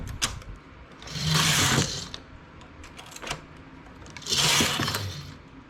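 A knitting machine carriage is drawn across the needle bed while knitting pointed lace, making two loud rattling, clacking passes, each lasting about a second, with quieter clicks of needle handling in between.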